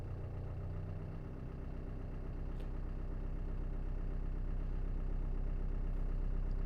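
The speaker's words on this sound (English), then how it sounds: "let you hear me pulling away. So I'm in first gear. I love the sound of that diesel motor" A Land Rover Defender 130 with a 300 TDI diesel engine pulls away in first gear, a steady low diesel drone that builds gradually and stays close, with no talking.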